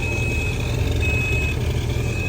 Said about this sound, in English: You want to make sure your engine's on first